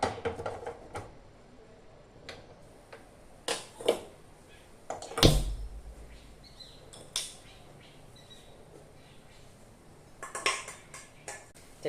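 A metal pan being set on a stove for roasting peanuts in a home kitchen, scattered clanks and knocks of cookware at irregular intervals, one louder clatter in the middle, close by with quiet gaps between.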